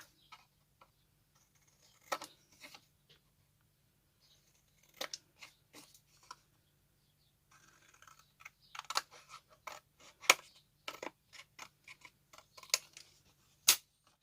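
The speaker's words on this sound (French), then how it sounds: "avec les ciseaux, vous coupez." Sharp, irregular snips of scissors cutting paper, in short bursts with pauses between, fairly close and quiet, no talking.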